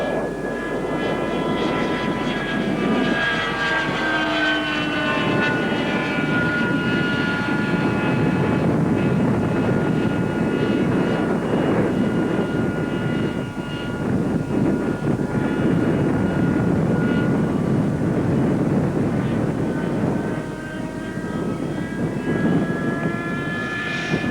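A swing-wing jet with a faulty wing-sweep mechanism passes fast on a downwind run at an airshow jet rally, its engine roar sustained and loud for about twenty-four seconds with shifting whining tones and no talk.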